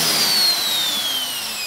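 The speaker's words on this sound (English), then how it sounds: "the rivet needs to be drilled from the outside" A 5mm drill bit bores out a rivet from the outside of a pram canopy on an Emmaljunga Mondial De Luxe stroller, giving a steady, close, high-pitched whine that slowly drops in pitch, heard alone.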